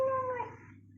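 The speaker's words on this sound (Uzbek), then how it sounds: "Men mushukka ovoz qo'shganman." A single short cat meow, a synthetic sound effect from a simple cat-and-mouse game, clear and close, sliding down in pitch and fading out within a second.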